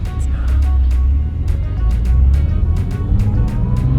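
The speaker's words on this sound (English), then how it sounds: "we'll take you for a quick drive and show you how wimpy it sounds" A car's engine and exhaust rumble steadily while driving, with a fairly subdued, unaggressive tone. The low drone is continuous and close, with faint ticking and rattling above it.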